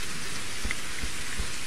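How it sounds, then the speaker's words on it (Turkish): Heavy rain pours steadily in Reign Of Kings, a dense hissing downpour with a few soft thuds underneath, constant and enveloping with no voices. "Fena yağmur yağıyor."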